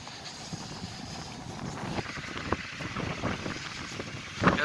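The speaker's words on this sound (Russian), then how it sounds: "просто сейчас то, что буран намел, и ветер очень сильный" Strong wind blows steadily through a snowstorm after a blizzard in Karaganda, a constant broadband roar with buffeting gusts against the microphone and a sharper burst near the end, no voices.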